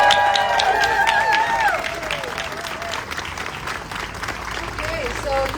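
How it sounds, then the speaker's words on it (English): Audience applauding an artist at the unveiling of a new mural, a steady wash of clapping with a voice talking over the first couple of seconds. "let's give another round of applause for this wonderful artist here."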